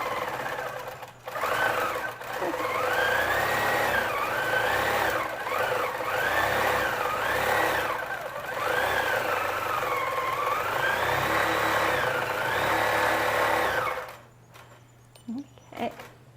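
A longarm quilting machine stitches a quilt with a steady, fast mechanical whir whose pitch wavers as it moves, broken by short pauses, then stops near the end as a voice briefly speaks.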